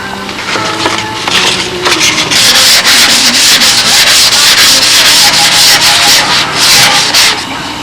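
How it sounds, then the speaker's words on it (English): Steady, continuous scratchy rubbing of 600 grit sandpaper worked by hand over molded carbon fibre parts, back-and-forth strokes blending into a dense hiss, close and fairly loud with no talking. "we're going to get a final sanding with 600 on everything before we do any of the e-glassing"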